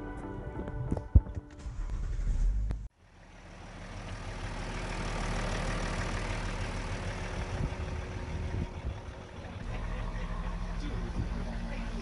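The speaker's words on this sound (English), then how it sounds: "Put on the brake and let's see if it starts now." A BMW X5 under repair cranks and fires up after a short pause, then settles into a steady low engine idle heard close by, with faint voices in the background.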